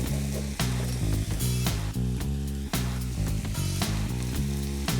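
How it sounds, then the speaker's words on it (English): Steady loud sizzling of food frying in a pan, with a rhythmic pulsing pattern over the hiss, no voices. "Nice sizzle, that's a good sign."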